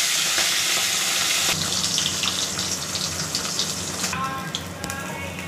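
Fish dropped into hot oil in a pan, giving a loud, steady gushing sizzle that eases slightly as it continues, close up and with no talk over it.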